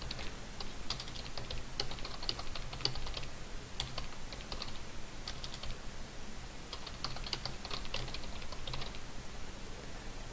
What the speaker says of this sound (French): Et je tape mon texte.